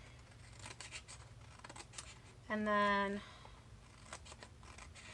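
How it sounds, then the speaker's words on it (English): Scissors trim a Dollar Tree traveler's notebook cover straight across with one short, loud snipping cut, close to the mic, while someone talks quietly around it. "Kind of make a line here with my scissors."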